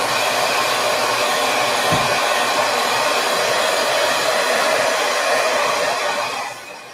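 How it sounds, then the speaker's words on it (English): A hair dryer blows on a freshly stencilled frame in a steady, loud, close roar that runs unbroken for several seconds and then cuts off near the end. "I'm going to blow dry this really quick, so hang with me."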